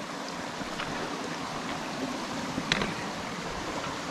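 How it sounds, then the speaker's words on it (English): A big stream flows steadily past boulders placed across it, a continuous close rushing and trickling of water with no voices. "Big stream."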